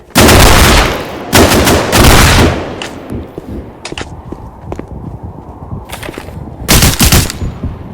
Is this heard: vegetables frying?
no